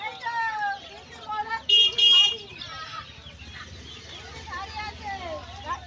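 Chickens at a crowded poultry market where Australian breed chicks are sold, clucking and a brief sharp squawk close by, under steady talking.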